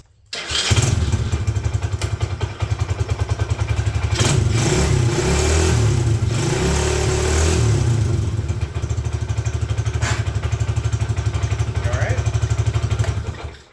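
A Coolster 3050 engine fires up and runs with a steady, loud pulsing idle, then revs up and down through the middle before settling back into an even thumping idle, heard up close with no talk.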